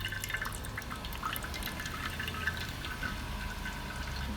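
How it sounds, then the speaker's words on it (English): Motor oil drips from the opening of a Dodge Dart's just-removed oil filter during an oil change, a scatter of small, quick ticks and splashes over a steady low hum. "once you get the oil filter out, then it's gonna drip oil"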